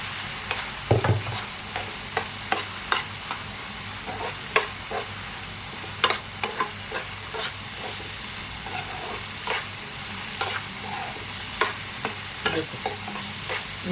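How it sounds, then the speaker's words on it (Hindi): Kala chana (black chickpeas) tipped into a pan and stirred with a spoon, bringing scattered scraping clinks over a soft, steady sizzle of frying spices for a chaat, close and with no voices. "तो मैं ये चने डाल दूँगी इसके अंदर।"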